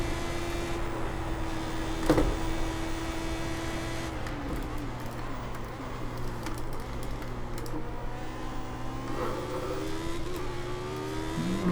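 A Lotus 79 racing car in iRacing at Oulton Park revs and shifts through gears, its engine note climbing and falling continuously, with a sharp burst near the start and faint keyboard-like clicks underneath.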